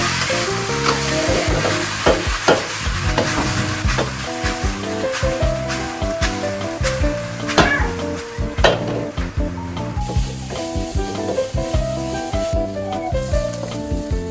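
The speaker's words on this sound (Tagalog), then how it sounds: "Igisa na ang beef at lagi nyo lang haluin hanggang sa maging malambot ito." Beef sautéing in a hot pan, with loud continuous sizzling and repeated scraping stirs of a utensil against the pan, no talking.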